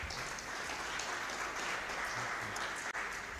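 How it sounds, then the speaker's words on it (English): Applause from an audience at a civil society organisations convention, thanking a panel; a steady, dense wash of clapping that sounds moderately distant and fairly quiet, with no talking over it. "Please, a round of applause to the panelists in this."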